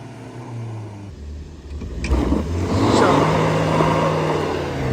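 A Mahindra Thar 4x4 engine works through off-road terrain, idling low before revving up loudly after two seconds and holding a strained roar, with voices faintly present.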